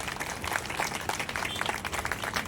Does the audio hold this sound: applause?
yes